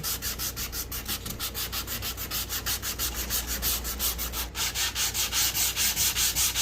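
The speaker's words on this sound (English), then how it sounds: "you can go right in there and finish up on your sanding" Close, steady hand sanding with a sanding block: a scratchy rasp in quick, even back-and-forth strokes, continuing without pause.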